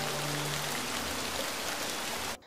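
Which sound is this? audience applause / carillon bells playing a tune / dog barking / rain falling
rain falling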